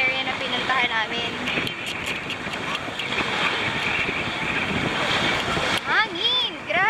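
Strong wind at Subic buffets the microphone in a loud, continuous rumble, with voices calling out faintly underneath.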